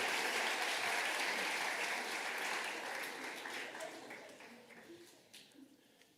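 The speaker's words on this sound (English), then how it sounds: "let's give them a round of applause" Applause from a crowd at a high school awards ceremony, dense steady clapping that gradually thins and fades out toward the end, with a few scattered claps lingering.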